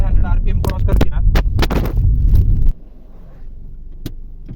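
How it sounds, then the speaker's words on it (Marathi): A camera falls inside a moving Maruti Suzuki Baleno, giving a close burst of loud knocks, thuds and rattles for a few seconds. Then only the car's low cabin hum remains, with one faint tap. "कॅमेरा थोडा पडला होता"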